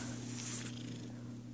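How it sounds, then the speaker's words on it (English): A young female Turkish Angora cat purring close by, a steady low rumbling hum that runs unbroken through the short stretch. "I wonder if she can hear your motor running."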